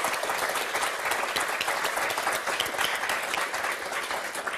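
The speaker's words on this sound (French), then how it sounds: "On va vous applaudir très fort," A TV game show studio audience claps loudly for four contestants, a dense, continuous wash of applause at constant volume throughout.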